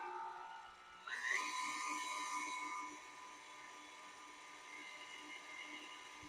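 An electric stand mixer whirs up to speed on cookie wet ingredients with vanilla extract, a steady high motor whine that starts abruptly and then settles to a lower, quieter drone.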